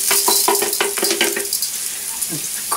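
Rice tipped into very hot oil with garlic already fried brown gives a close, steady sizzle, with stirring and scraping in the pan for the first second and a half.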